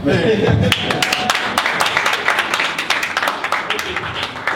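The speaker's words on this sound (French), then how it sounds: "on va vous applaudir tous les deux" Scattered audience clapping rises after a brief moment of talk and settles into a moderate, uneven patter of individual claps, fairly close and not very dense.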